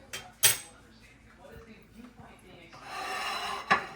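Lamb meatballs lifted from an oiled frying pan onto a plate, with a couple of sharp metallic clinks of utensil against pan or dish and softer scraping between them, close by.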